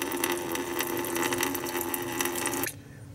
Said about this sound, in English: So let that drain out for a minute